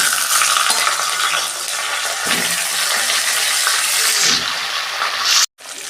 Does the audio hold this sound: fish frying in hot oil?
yes